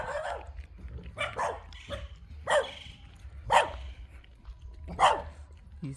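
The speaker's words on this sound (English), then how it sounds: "These dogs are barking at us." Several gated dogs on a farm in Jamaica bark in bursts, sharp woofs coming at intervals of roughly a second, moderately close and loud over a quiet outdoor background.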